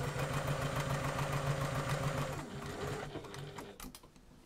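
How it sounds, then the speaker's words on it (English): A sewing machine stitches fabric for a wine bottle cover, running in a fast steady whir for about two seconds before slowing and stopping with a few faint clicks. "I'm going to carry on stitching, as you can see, about a half an inch away from the edge of my strap"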